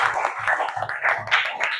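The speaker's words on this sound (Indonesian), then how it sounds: "Tepuk tangan untuk Nala dan kita semuanya" A classroom group applauds for Nala, a quick burst of uneven hand claps from several people close by, dense and lively for a couple of seconds.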